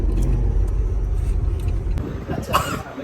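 A car rolls along behind on a village road near Nashik, a heavy low engine rumble close by that eases off toward the end, with a brief cough and faint voices over it.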